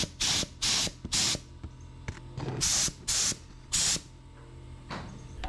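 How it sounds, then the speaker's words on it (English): A paint spray gun set to a low flow coats a large excavator in repeated short hissing bursts, about seven blasts of roughly half a second each, with brief quiet gaps between them. "I'm still figuring out this paint gun at this point"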